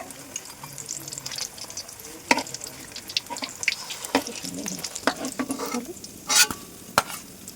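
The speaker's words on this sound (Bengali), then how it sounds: "এইভাবে বাকি যে ডিমের টেবিলগুলো রয়েছে সেগুলো আমি ভেজে নিচ্ছি" Egg devil chops fry in hot oil in a Kolkata-style kitchen. A steady soft sizzle runs under repeated sharp clinks and scrapes of a utensil against the pan.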